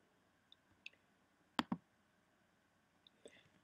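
A computer mouse gives a few faint, close clicks, with a sharp double click in the middle and lighter taps before and after, in a quiet room with no talking.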